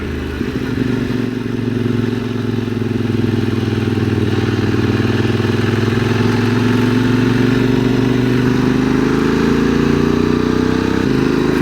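A motorcycle engine drones steadily up close as the bike rides along winding mountain roads over the Col d'Aspin and Peyresourde in the Pyrenees, its pitch climbing slightly toward the end.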